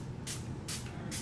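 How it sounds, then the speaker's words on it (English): Hydrating makeup setting spray misted from a pump bottle in three short, close hissing bursts evenly spaced over about a second, with no talking. "I'm just going to spray the perimeter"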